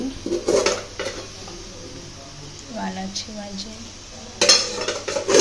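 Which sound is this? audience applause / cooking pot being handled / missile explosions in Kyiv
cooking pot being handled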